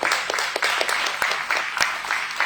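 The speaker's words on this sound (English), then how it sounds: "you have to give a hand of applause to Islamic Relief South Africa" Applause from an audience honouring Islamic Relief South Africa, a steady crackle of many hands with a few sharper claps standing out, moderately loud and sustained throughout.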